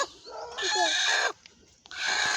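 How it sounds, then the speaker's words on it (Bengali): A hen makes a couple of short, close clucking bursts separated by a brief quiet gap, on a farm. "ওই মুরগির ডিম পারছে নাকি দেখো তো"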